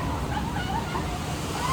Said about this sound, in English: All right, got the rapids right here.